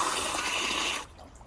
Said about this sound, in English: it's just pouring out the bottom of the car